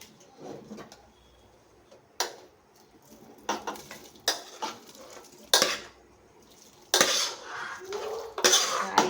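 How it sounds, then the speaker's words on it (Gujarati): Soaked sago pearls are stirred steadily in a pan while cooking for crisp fasting wafers: a spoon clatters and scrapes against the metal in repeated bursts of uneven rhythm, close and fairly loud, with faint sizzling between strokes. "હવે આ પકડી સતત જો આ રીતે હલાવતું રહેવાનું તમારે"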